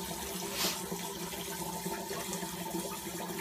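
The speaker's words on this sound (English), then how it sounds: "Get a little more water in my sink here." Tap water runs steadily into a bathroom sink during a straight razor shave, a faint continuous hiss and splash with no talking.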